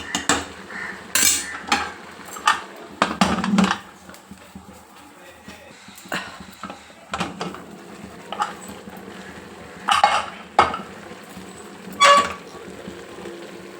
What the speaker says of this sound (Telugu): నూనెలో మంచిగా ఇట్లా వేగనియాలి తలకాయ కూర